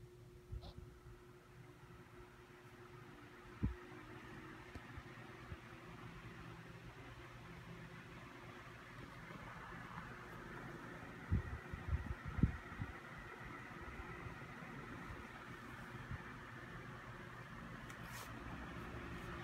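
An Asahi pedestal fan running on its low setting with oscillation on in a dining room, giving a faint, steady whirring hum with a few soft clicks and bumps from the room.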